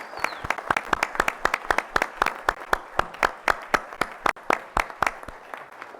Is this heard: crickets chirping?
no